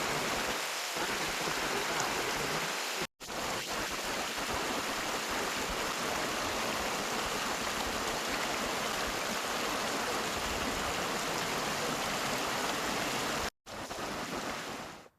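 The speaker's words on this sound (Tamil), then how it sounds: "மணக்காட்டான் வாய்க்கால் தரைப்பாலம் மூழ்கி 4 அடி உயரத்திற்கு தண்ணீர் ஓடுகிறது" Floodwater pours roughly four feet deep over a submerged canal causeway after a week of heavy rain, giving a continuous loud broadband rush with no talk, cut by two brief dropouts.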